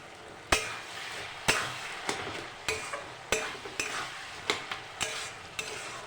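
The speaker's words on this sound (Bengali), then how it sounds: "ঢাকনাটা খুলে আমি একটু নাড়াচাড়া দিয়ে নেব" A spoon stirs banana flower and potato curry in a pan, giving a steady low sizzle with sharp, regularly spaced clacks and scrapes against the pan, close and alone.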